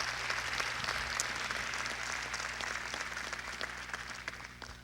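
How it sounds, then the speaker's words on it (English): An audience at a welcome gathering gives sustained applause for Miranda, a dense, even wash of many hands clapping close by with little letup. "can we give Miranda a round of applause?"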